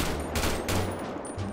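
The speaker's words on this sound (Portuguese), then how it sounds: "Vocês vão ouvir mais um eco do tiro, tá ligado? Essa aqui é a AK." AK rifle shots in GTA 5 with an added echo effect, a short run of reverberant bursts that blur into one another.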